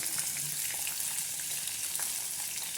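Green chilies, beans, carrot and onion fry together in a cumin tempering for vegetable pulao, giving a steady, close hiss of sizzling oil with faint stirring underneath.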